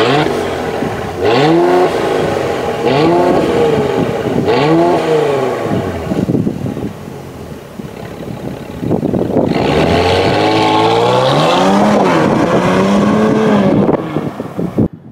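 A Mercedes-Benz GLE 400 coupe with upgraded parts, remap and valved exhaust revs hard at full throttle, loud and close, in several rising blips followed by a long sustained climbing roar before it cuts off.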